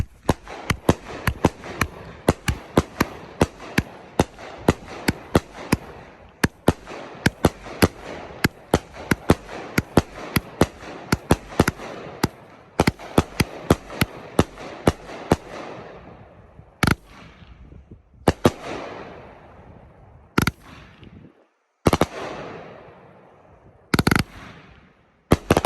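A Winda Big Bang Berry 500-gram firework cake from the IPA series fires a dense, rapid barrage of sharp cracks and bangs, then thins to slower, separated booms with echoing tails toward the end.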